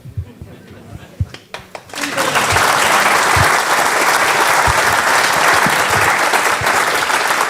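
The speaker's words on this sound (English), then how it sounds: "I just thought everyone's final word deserved a clap there" An audience claps at a football club fans' forum, loud sustained applause breaking out after a few seconds of scattered thuds and voices, then continuing evenly.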